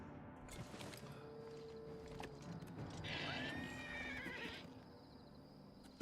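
A horse in the video game Oblivion Remastered gives a loud, rising and falling whinny midway, with hoof clip-clops and a busy game soundscape around it.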